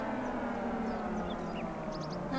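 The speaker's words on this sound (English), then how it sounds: "Woke up this morning to a tornado siren." A tornado siren wails steadily in a video game, a sustained, fairly faint rising-and-holding tone with a few brief chirps above it and no speech.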